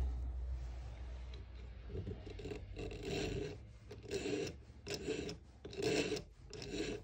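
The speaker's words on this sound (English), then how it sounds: "a few light strokes through the sharpener. Just going with less pressure each time," Fly tying scissor blades drawn through a handheld sharpener in light strokes, a series of rasping, filing scrapes in bursts about a second apart, close up and with no talking.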